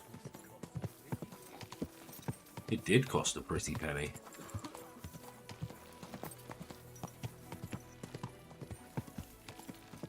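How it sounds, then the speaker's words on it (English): Horse hooves clip-clopping in the medieval video game Kingdom Come Deliverance 2, a steady, moderately faint rhythmic trot running throughout, with a voice speaking over it partway through. "let's get on our horsey. Go, horsey, go."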